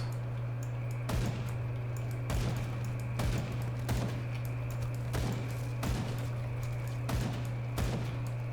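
Shots ring out in Grim Dawn at a jug, a string of sharp, evenly spaced cracks roughly every second, over a steady low hum with no talking.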